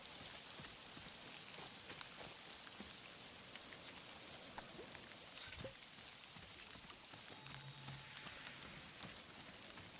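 Steady rain hisses and patters continuously in the Dawn of Defiance video game, a constant even wash of drops with a faint low tone appearing near the end.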